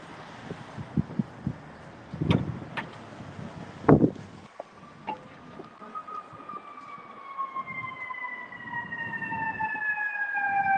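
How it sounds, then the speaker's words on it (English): An ambulance siren on a city street during a Chicago protest scene approaches, its wailing tones rising clearly after a few sharp knocks and bumps, growing steadily louder with traffic rumble underneath. "I'm pretty sure that's ambulance coming down."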